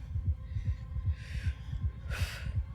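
Steady, rhythmic heartbeat pulses thump at close range for a few seconds, with a low hum beneath and brief whooshing swells, as a sound effect in a Daredevil: Born Again episode.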